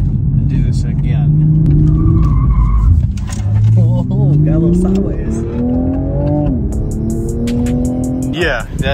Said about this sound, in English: that should give us a lot more audible feedback from the turbochargers